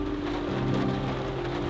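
Rain falls on a camper at a national park campsite, a steady close hiss of drops drumming on the roof without pause and with no one speaking.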